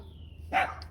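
A single short, sharp bark from a dog nearby, rising abruptly out of a quiet outdoor yard after a faint whine and fading quickly.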